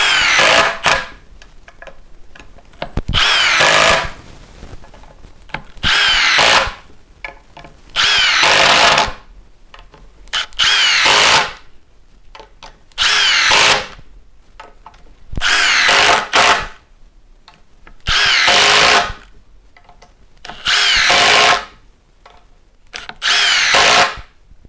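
A Milwaukee Surge Gen 3 impact driver runs in repeated loud bursts of about a second each, nine or so, separated by short pauses, with a harsh rattling hammer close to the listener and no talking.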